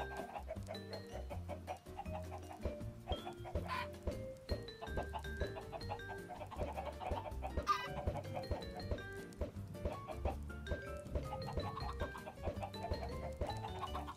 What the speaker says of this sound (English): Ah, yes, the real chicken farm.